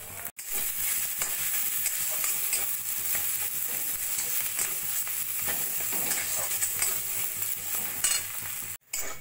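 Chopped coriander stirred into a potato mixture in a hot pan, a continuous close sizzle with steady scraping strokes of a spatula and a couple of sudden brief breaks.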